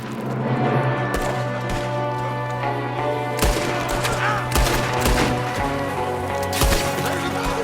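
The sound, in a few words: gunfire in the video game Red Dead Redemption 2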